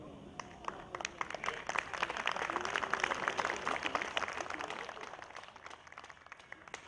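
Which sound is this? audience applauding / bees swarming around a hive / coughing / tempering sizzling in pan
audience applauding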